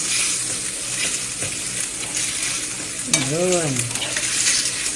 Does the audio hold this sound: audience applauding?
no